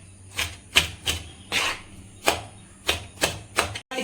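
A knife chops through tomatoes on a cutting board in a kitchen, giving a run of about a dozen crisp, close taps at an uneven rhythm with brief pauses between cuts, alone without talk.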